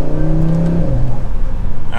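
A 2024 Audi RS3 sport sedan driving in RS performance mode, its engine loud and close with a steady low drone that drops in pitch near the end, as from a gear change or easing off.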